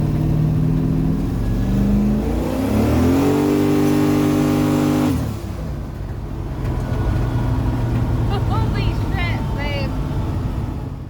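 Turbocharged LS-swapped Fox body car running E85 on drag radials accelerates hard, the engine note climbing through the revs up close and loud, then dropping after a shift into a lower, steady drone.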